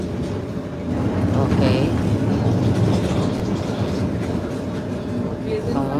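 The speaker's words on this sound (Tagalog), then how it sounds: "Oh, yan pa isang tren, oh." A train passes over a bridge as a steady, loud rumble with rhythmic clatter. It runs under a brief spoken word.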